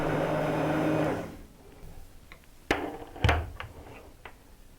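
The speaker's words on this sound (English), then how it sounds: "I'm just going to give it a quick buzz" A blender purees hot squash chowder in a short, loud whirring buzz that stops after about a second. Clatter and knocks of kitchen handling follow.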